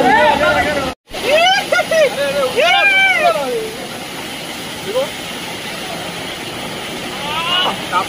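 Vibhuti waterfall on Velinam hill pours down with a loud, steady rushing roar, close by, while voices talk and call out over the water.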